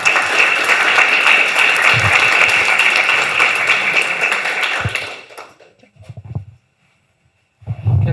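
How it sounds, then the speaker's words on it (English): Audience applause at a hackathon pitch event, loud sustained clapping from a crowd that tapers off and stops, followed by a few faint thumps and near silence. "Round of applause, everyone."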